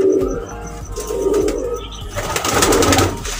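Several pigeons on a rooftop in Sialkot, Pakistan coo close by in low, throaty rolling phrases, overlapping one another against a constant hum and faint chirping.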